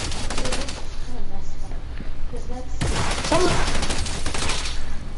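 A submachine gun fires in a video game with dense, rapid bursts that rattle on almost continuously, loud and close, while players talk over the shooting.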